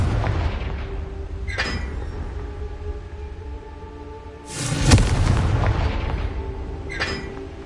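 Confringo blasting spells go off in Hogwarts Legacy, giving several booming explosive hits, one heavier burst near the middle that rumbles on briefly, with quieter blasts before and after.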